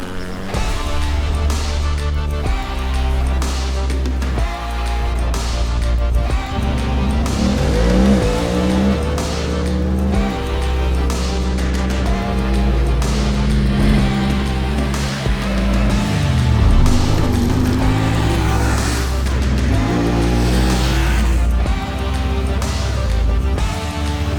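A 2019 Honda Talon 1000R side-by-side runs loud and steady, its engine rising and falling in pitch as it revs and shifts, with a continuous low drone throughout.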